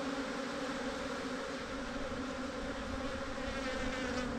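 A dense swarm of aggressive honeybees from a torn-down hive full of drawn comb, pollen and brood drones in a loud, continuous, steady hum close by.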